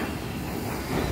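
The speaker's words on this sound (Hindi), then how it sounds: "ये देखिए लाइव, देखिए गाड़ी जा रहा है, क्रॉस कर रहा है" A train passes through Barauni Junction railway station in Begusarai district, India, heard as a steady, close rumbling wash of noise that swells slightly toward the end, with no talk over it.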